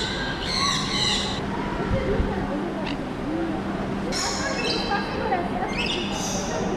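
A bird squawks in bursts inside an indoor rainforest in Dubai, the sharp calls repeating at intervals over a constant humming room background, with people talking nearby.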